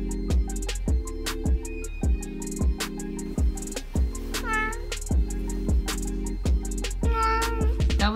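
A cat answers with repeated meows over a steady beat of music, several short drawn-out cries spaced among rhythmic thumps, fairly close.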